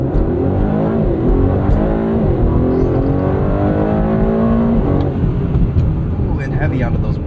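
A 2024 Aston Martin DB12 with a twin-turbo V8 holds a loud, steady engine roar through a brake-stand launch, its pitch climbing then settling with shifts. A person talks over the engine throughout.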